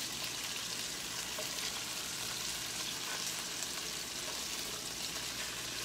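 Chicken thighs fry in a pan with a steady, dense sizzle that runs the whole time, a quick flip barely standing out from the constant crackle; nobody speaks.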